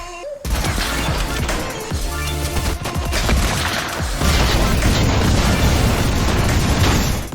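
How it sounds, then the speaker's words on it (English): A chain of gas cans detonates in Fortnite, a sudden loud blast rolling into a dense, sustained barrage of overlapping booms and crackling bursts that stays loud throughout. "I have never seen an explosion this over the top in a match before"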